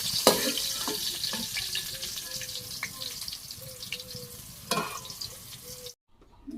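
Pointed gourd (potol) frying in oil in a pan in a Bangladeshi village kitchen, a steady close sizzle with occasional stirring scrapes and clinks, continuing for several seconds before cutting off abruptly.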